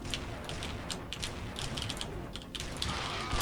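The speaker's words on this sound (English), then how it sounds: "Hey, the elevator." A video game elevator grinds along with ratcheting, gear-like mechanical clicks and creaks, moderately quiet and steady throughout.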